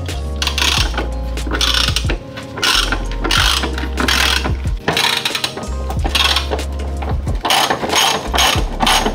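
A ratchet wrench loosens the 19 mm subframe bolts on a 1994 Toyota Celica GT, clicking loudly and steadily up close in repeated bursts with short pauses between strokes.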